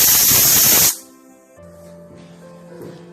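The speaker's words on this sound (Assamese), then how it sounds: "এয়া চাওক, কুকাৰটোৰ পৰা ভালদৰে প্ৰেছাৰখিনি বাহিৰ হৈছে নিজে নিজে।" A pressure cooker of dal on a gas stove vents steam in a loud, continuous hiss that cuts off sharply after about a second, leaving a faint low hum.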